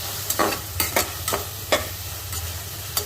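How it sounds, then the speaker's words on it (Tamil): Onions and ginger garlic paste being stir-fried in a pan: a steady sizzle broken by a series of sharp spatula scrapes and taps, close and fairly loud, with a low hum underneath. "இந்த இஞ்சி பூண்டு பேஸ்ட்டை போட்டு கொஞ்சம் மிக்ஸ் பண்ணுங்க, நல்லா ஸ்டீப் பண்ணுங்கள்."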